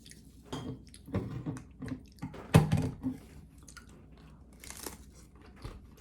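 Chewing on a tortilla dish eaten with curry dipping sauce, with soft crunchy bites and moist squishing repeating irregularly, close and fairly quiet, one louder bite midway.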